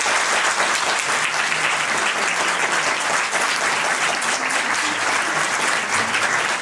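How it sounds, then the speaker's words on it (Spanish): Sustained, dense applause from an audience for teacher Andrés Torres, steady and loud throughout with faint voices mixed in. "Un aplauso, por favor."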